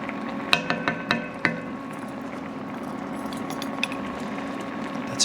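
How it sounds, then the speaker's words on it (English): Beef stroganoff sauce simmers in a pan with a soft, continuous bubbling, and a few sharp utensil clinks ring out near the start. "That's a beautiful simmer right there."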